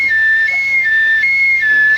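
A voice imitates an ambulance siren with a steady two-tone whistle that alternates high and low several times, loud and close, with no other sound.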